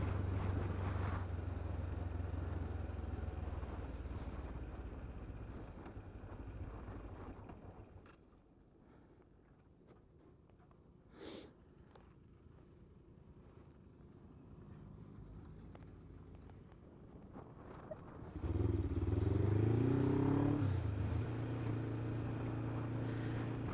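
A motorcycle engine is bump started: steady wind and rolling rush fade to a lull, then the engine catches near the end with a loud, rising rev.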